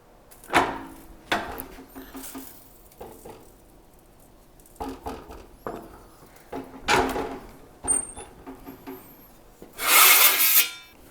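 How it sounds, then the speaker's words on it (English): Sheet metal for a Ranchero LS swap transmission tunnel being bent on a brake, heard as a series of close, separate scraping, creaking and metallic thumps, ending in a louder harsh rasp, with no talking. "All right, it's time to do the brake, and it doesn't take much."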